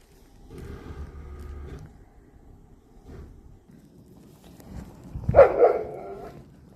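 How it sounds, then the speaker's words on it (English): A dog near hillside villas on Mykonos, Greece gives one loud, sharp bark after several seconds of quieter, muffled rumbling and shuffling. "Some of these dogs are scary."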